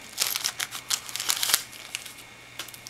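A package of D'Addario classical guitar strings is ripped open, giving a close series of crinkly plastic and paper tearing bursts in quick, uneven succession. The sound is fairly quiet, with no talking.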